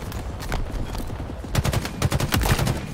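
Enemy gunfire in Halo Infinite, an enemy firing relentlessly with rapid bursts of loud shots that thicken into dense automatic volleys toward the end.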